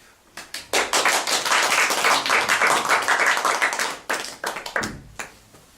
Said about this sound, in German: Einen riesigen Applaus bitte für unsere wunderbare Denise, alias Hildegard Knief.